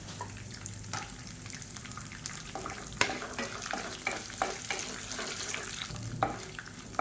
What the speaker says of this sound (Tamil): கடலைப்பருப்பு நல்லா பொரியுது இதில் நாலு காஷ்மீரி மிளகாய் வத்தல் சேர்த்துக்கலாம்